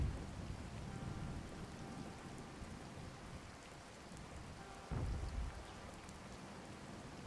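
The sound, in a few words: rain and thunder in a video game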